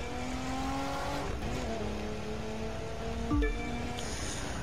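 A Mitsubishi FTO engine drones in The Crew 2, a steady tone rising through the gears with short drops at each shift and a thump partway through, heard alone.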